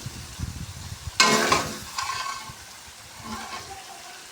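Spice masala with coriander powder sizzles and fries in hot oil while being stirred, a sharp burst of crackling that settles into a steady, close hiss with scraping.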